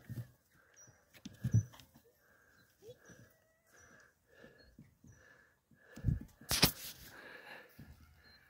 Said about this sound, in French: Voilà, c'est un chien, ça